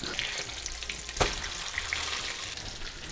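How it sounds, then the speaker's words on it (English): Pork cutlets fry in a pan with a steady, even sizzle that stays fairly quiet throughout, broken by one brief sharp crackle near the middle. "You just want to cook them until they're crispy,"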